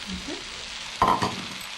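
Leeks, spices and ginger sizzle steadily in a hot pan, with a louder burst of crackling and scraping as they are stirred partway through, all close by.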